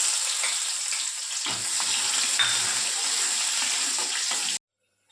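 Onion frying in a pan for a moong dal curry, a steady close sizzle with soft stirring scrapes running throughout, then cutting off abruptly near the end.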